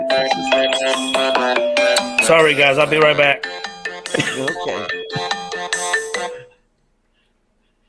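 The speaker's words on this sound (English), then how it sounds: "You can tell something about people by their ringtones, by the way." A phone ringtone plays a loud, tonal melody of repeated ringing notes near the microphone in an office studio, while someone briefly talks over it before the ringing stops.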